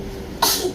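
A single short, sharp sneeze bursts out about halfway through, fairly close and moderately loud, over a quiet indoor background.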